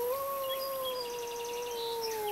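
A dingo lets out a long, steady, wavering howl, loud and close, holding one drawn-out note for over two seconds with no talk over it.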